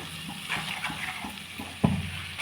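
Masala spices frying in a pan for Punjabi chole, a soft sizzle with light stirring scrapes and a sharper knock near the end, faint and close.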